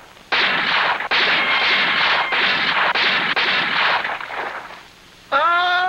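Gunfire in a Western TV drama, a loud near volley of repeated shots and booming reports running for several seconds before fading, followed by a short burst of music.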